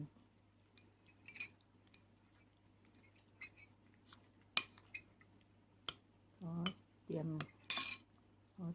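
Cutlery clinks and scrapes against a dish while chive cakes are scooped up, giving sparse metallic taps and a few louder scraping bursts near the end, close up with no talk.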